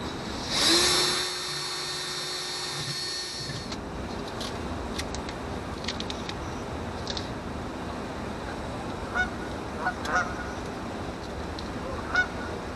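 Canada geese honk intermittently in the distance over a steady outdoor background, after an early stretch of loud whining noise at the start.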